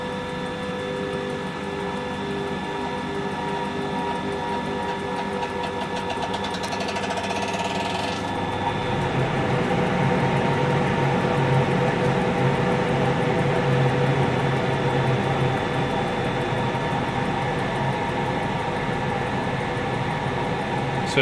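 An electric motor driven by a Chinese KLC 4000-A1 speed controller runs noisily, a steady whine that shifts partway through into a rougher, louder buzzing drone, continuing without speech.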